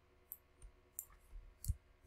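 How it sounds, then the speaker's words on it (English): Computer mouse clicking, a few faint, sharp, close clicks spaced irregularly over quiet room tone. "Then you just double click on the check marks and they go away."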